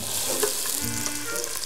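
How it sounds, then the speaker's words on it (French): Chopped onions frying in hot olive oil for a pork chaudin, giving a steady close-up sizzle and crackle with faint stirring and no talking. "On va commencer par y verser les oignons. Voilà, bien les faire revenir."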